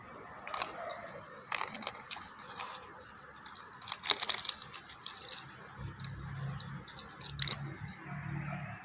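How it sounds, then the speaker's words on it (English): Water poured into a container holding a Jiffy 7 peat pellet, a soft trickling and splashing with intermittent drips, faint and close, with quiet gaps between pours. "First, you put the Jiffy inside a container and then you pour some water in."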